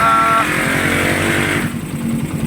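A repaired motorcycle engine idles steadily and loudly up close, its tone shifting partway through as the revs ease down to a lower, rougher running note.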